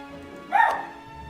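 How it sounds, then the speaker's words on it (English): Dogs in Europa Universalis IV give a single short bark, brief and moderately loud against quiet background music. "Yeah, just a little bark, no biggie."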